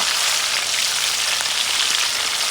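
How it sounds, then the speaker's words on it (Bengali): Hilsa fish frying in oil in a pan over a clay stove, a loud, steady hiss and crackle of sizzling that fills the whole moment without any voices. "ইলিশ মাছ গুলা ভেজে নেই"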